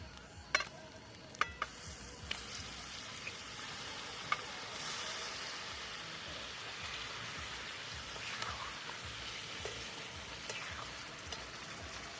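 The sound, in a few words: mutton added to fried masala, sizzling in pan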